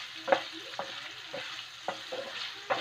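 A utensil stirs vegetables with a little meat in a frying pan, making a run of distinct scraping knocks about every half second over a soft, continuous background sizzle.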